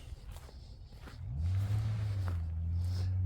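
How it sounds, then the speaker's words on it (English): A car engine revs up and holds at a strong, rough drone outdoors in a wooded field, rising after a quieter start with faint rustling and no speech. "why are you revving your engine like that"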